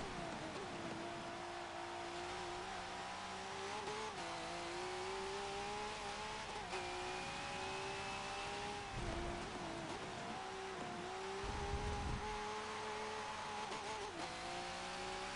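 V8 Supercar engine in the Forza Motorsport 7 racing game at Brands Hatch, a steady high-revving drone with shifting gear pitches and brief tyre-scrub bursts, loud and continuous throughout.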